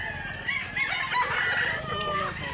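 A rooster crows loudly and close at a chicken market in Mantalungon, Barili, Cebu, one long drawn-out call filling the moment amid background chatter.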